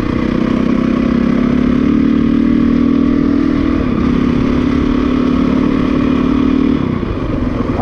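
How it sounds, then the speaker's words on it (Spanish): A 450 motorcycle engine runs steadily for several seconds, a loud, even mid-pitched drone that holds constant before dipping slightly near the end, with no talking. "lo que es el clutch y el sonido de la moto"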